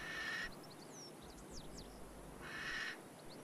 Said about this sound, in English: This screech gives it one of its many alternative names, the screech owl.